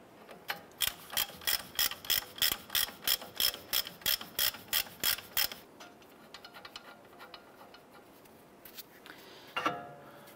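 Rapid ratcheting clicks from a ratchet wrench backing off the upper nut on a 2011-2018 Ram 1500 front suspension knuckle, a steady run of close, loud ticks for about five seconds, then quieter handling noise and a brief clatter.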